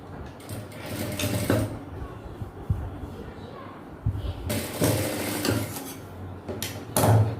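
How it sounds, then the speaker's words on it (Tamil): A sewing machine stitching a blouse, its motor whirring in steady bursts with pauses between runs, under a voice talking. "ஸோ இந்த பக்கம் பண்ணிட்டோம், அந்த பக்கமாக நம்ம ஸ்டிச் பண்ணிடலாம்"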